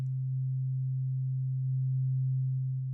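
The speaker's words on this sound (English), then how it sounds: "These are your oscillators. Turn them on and you'll get a drone immediately." A steady, pure low sine-wave drone from oscillators in the Dronage iPad synth app holds unchanged at even volume throughout, with no other sounds.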